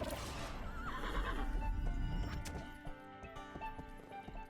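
A horse whinnies in a fantasy RPG demo, a loud drawn-out neigh up front, followed by scattered hoof clip-clops and game effects as it fades.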